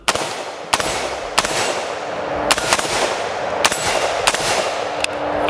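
Rapid series of loud, sharp gunshots from AR and AK-style pistols in 6.5 Grendel and 7.62x39, about eight reports spaced under a second apart, each cracking over a broad, continuous rumble of outdoor range noise.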